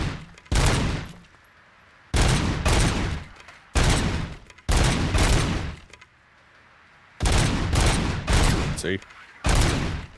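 Loud, close gunshots crack in repeated bursts at a shooting range in Robocop: Rogue City, each volley separated by short pauses, and a voice speaks briefly between them.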